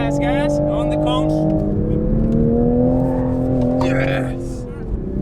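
A Toyota Supra's engine drones loudly from inside the enclosed cockpit as it pulls hard on a track, the steady tone climbing slowly while people talk over it.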